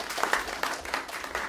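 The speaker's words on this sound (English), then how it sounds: "applause for both the two guys who were talking?" Brief burst of audience applause for two speakers at a panel talk on environmental law reform in China, a moderate patter of many hands with a few sharper claps, filling the short moment.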